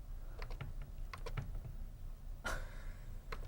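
A computer mouse clicks in a scattered run of faint, sharp taps, with a slightly louder click midway over a low background hum.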